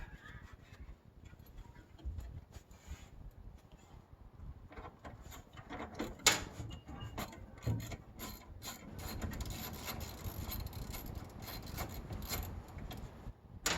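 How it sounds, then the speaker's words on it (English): A wrench works bolts loose on the dash of an early GMT400 truck during removal, giving repeated close scraping, rasping and clicking metal sounds with a sharper knock midway and steady busy mechanical handling throughout. "when I'm wrenching, I'll break the bolt free like that, and once the nut's free enough, so the screw is free enough, I'll turn it by the shaft"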